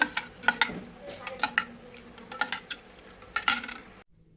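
A spoon clinks against a cup or vessel while a hot water mixture is stirred, producing a rapid series of sharp, close metallic taps and light scraping before stopping abruptly.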